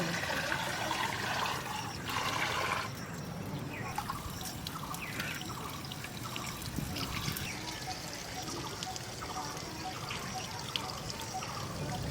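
Water pouring and trickling while broken rice (khud) is washed, a continuous splashing flow with small drips and light handling sounds, fairly close.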